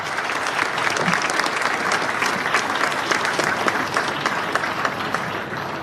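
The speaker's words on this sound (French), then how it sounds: "Madame Chantal Nanaba Camara, que je vous prie d'applaudir bien fort, Mesdames et Messieurs, s'il vous plaît." A large crowd at a presidential swearing-in ceremony in Côte d'Ivoire applauds loudly and steadily for about six seconds.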